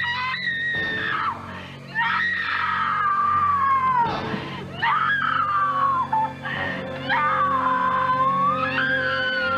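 A woman screams repeatedly from inside a house, long shrill wavering cries in near-continuous bursts, loud and close, with no speech over them.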